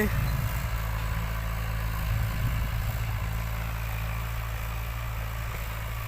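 A Kubota 75-horsepower diesel tractor engine, on a large tractor used to plow a rice field, drones in a steady, close, low rumble throughout, with a voice faintly under it.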